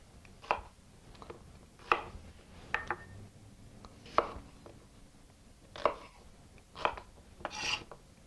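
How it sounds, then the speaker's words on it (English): A knife chops shallots into quarters on a cutting board while preparing country-style pâté: seven crisp, close strokes land about a second apart, each a sharp thunk with no voices. "the shallots that I'm going to cut into 4 pieces"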